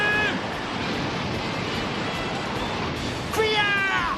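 Stormy wind and sea waves surging against a leaking ship, a continuous rushing roar with swells, while animated voices speak and cry out over it at the start and end.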